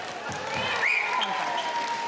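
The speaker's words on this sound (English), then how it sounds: "The crowd love it." A netball crowd applauds during a Silver Ferns versus Proteas match, a steady wash of clapping and cheering with a commentator's voice over it.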